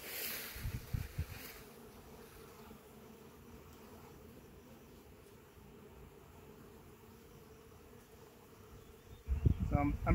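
Honey bees buzz softly inside a hive super, a faint steady hum with brief handling noises and rustles at the start and end.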